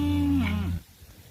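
A single cow on pasture gives one close, loud, drawn-out moo that falls in pitch and breaks off, followed by quiet outdoor air.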